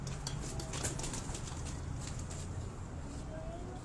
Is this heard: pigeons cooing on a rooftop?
yes